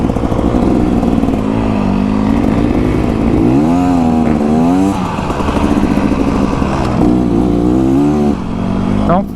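A 2024 Beta Xtrainer dirt bike engine runs loud and close while being ridden through deep wet sand, its pitch rising and falling as the throttle is rolled on and off.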